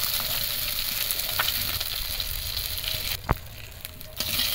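Mustard oil sizzling in a wok after pomfret fish was fried, a continuous low crackling hiss with a few sharp pops and one brief clank near the end.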